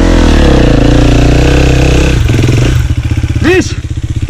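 KTM 2024 motorcycle engine running loud and close, harmonics climbing as it accelerates, with a brief rising rev near the end and voices talking over it.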